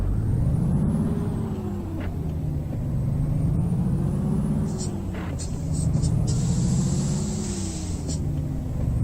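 A semi truck pulls away in American Truck Simulator, its diesel engine droning steadily with rising and falling pitch as it moves off, punctuated by short hissing air-brake releases, and no talk is present.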